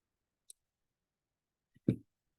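A computer mouse clicks the Go button in Microsoft Excel. A faint single tick comes first, then a louder, fuller click about a second and a half later, both isolated in silence.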